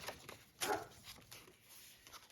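A dog barks indoors with one sharp bark standing out amid faint whimpers and yips, fairly quiet and a little distant in a quiet room.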